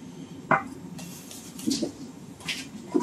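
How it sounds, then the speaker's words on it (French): A few soft clunks and knocks as ratte potatoes drop into a saucepan, with quiet kitchen clatter between them. "on les met dans une casserole"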